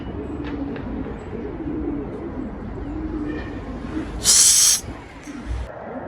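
Pigeons at a loft give low, rolling coos over a steady outdoor background, with a short loud rushing burst like wingbeats partway through.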